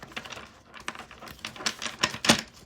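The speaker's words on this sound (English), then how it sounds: "One more shuffle." Tarot cards being shuffled by hand, a quick run of crisp riffling taps and flicks that grows denser and louder toward the end, close and with no talking.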